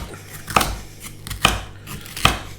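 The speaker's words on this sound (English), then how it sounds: "chop them up just into slices like that" Peppers sliced with a knife on a cutting board for a tagine: three sharp, distinct chops spaced almost a second apart, close and clear against a quiet room.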